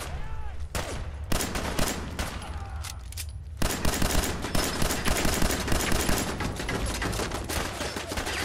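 Dense, continuous gunfire at a turret in Fallout 4, loud and busy with rapid overlapping shots mixed with other game sounds.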